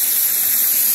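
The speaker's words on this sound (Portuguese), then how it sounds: "tem mais uma cachoeira aqui" A waterfall in a Japanese forest pours as a steady, dense rushing hiss, loud and unbroken throughout the short stretch, with no voices.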